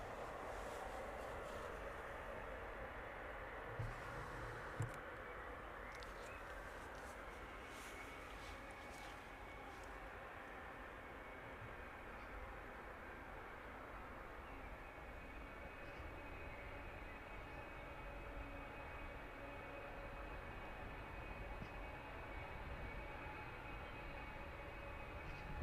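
A jet taxis along the taxiway toward the start of runway 09 at East Midlands Airport, its engines giving a steady, distant rumble and whine that holds evenly for the whole stretch.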